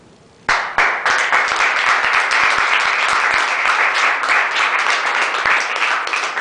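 Audience applause breaks out suddenly after a talk on dialectical materialism, a dense, steady wash of many hands clapping that holds loud and sustained for several seconds, with no voices over it.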